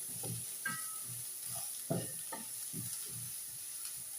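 Onions sautéing for a kadala curry with fennel, cinnamon and cloves, stirred in a pan with a quiet sizzle and a series of soft, rhythmic spoon scrapes close by.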